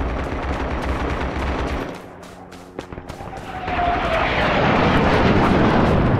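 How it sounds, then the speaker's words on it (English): A napalm strike in the Vietnam War shooter Rising Storm 2: Vietnam: a loud whooshing aircraft roar and fiery rumble swell in, dip briefly with scattered gunfire cracks, then return as a sustained heavy blast of burning noise. "Now it's napalm."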